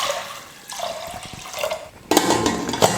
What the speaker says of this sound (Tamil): தண்ணி இப்போது பருப்பு வேகிறதுக்கு தேவையான அளவுக்கு சேர்த்துட்டு வேக வச்சுக்கலாம்